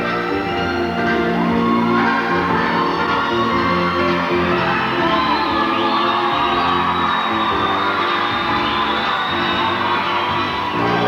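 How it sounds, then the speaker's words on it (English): Crowd at the 1990 Australian Dancesport Championship ballroom event, sustained cheering, shouting and whooping for the dancing couples, mixed with music and a busy hall ambience, loud and continuous. "the crowd are really getting behind all the couples tonight"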